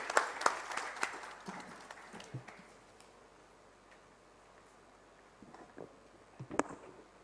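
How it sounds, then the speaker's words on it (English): Scattered applause from a healthcare summit audience, with a burst of claps at the start that thins out, then a few more claps near the end. "huge round of applause for Dr. Sangeeta Reddy."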